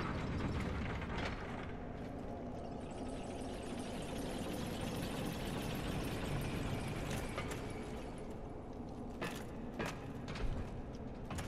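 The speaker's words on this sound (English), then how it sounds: "pull the lever." A lever being pulled in the Dark Souls video game, near the drained New Londo Ruins, gives a steady grinding, ratcheting mechanical rumble that stays loud for the whole stretch, with a few sharper clanks toward the end.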